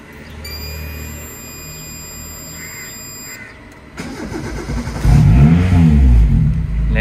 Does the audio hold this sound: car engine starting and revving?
yes